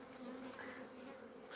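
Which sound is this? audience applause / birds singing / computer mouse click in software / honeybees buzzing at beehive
honeybees buzzing at beehive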